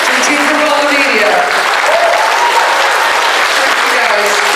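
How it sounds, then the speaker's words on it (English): Loud, sustained applause from an audience honoring a media team at a Transformers Cyberverse event, dense and steady with voices mixed into the clapping. "I'd love you to give a massive, massive round of applause to the team from all the media."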